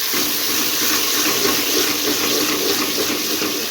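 Tap water runs steadily over garlic cloves being washed in a kitchen sink, a constant close hiss with no voices.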